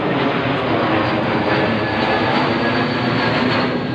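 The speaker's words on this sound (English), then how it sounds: "plane over the head." Airplane flying overhead above a city street, a loud, steady broadband engine roar that fills the whole stretch without letting up, with no voices.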